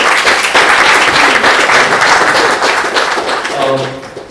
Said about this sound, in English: And a huge round of applause for him as well.